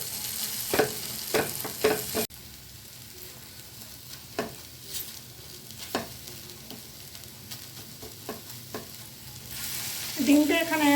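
Eggs frying in a pan with a steady low sizzle, broken by scraping and tapping as a spatula stirs them at irregular intervals, close and alone with no talk.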